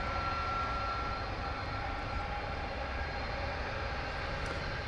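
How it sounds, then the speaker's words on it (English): A 20-year-old UPS Airbus A300 at DFW Airport gives a steady, broadband engine roar that holds loud and even throughout, with no voices. "UPS Flight 755 going to Chicago Rockford International Airport. It's an Airbus A300."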